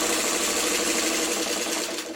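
Home sewing machine stitching quilt fabric, a fast, even mechanical whir running continuously at close range and slowing slightly at the very end, with no talk.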